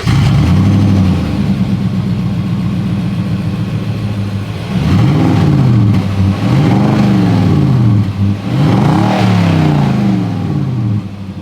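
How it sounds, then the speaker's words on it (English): A 2022 Nissan Titan PRO-4X full-size pickup idles with a deep exhaust rumble, then gets three rising revs that swell loudly and settle back between them, heard up close. "As always, here is that exhaust clip."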